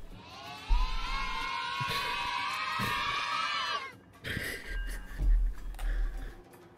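A crowd's cheer played backwards, swelling upward then cutting off abruptly, followed by scattered reversed shouts and thumps.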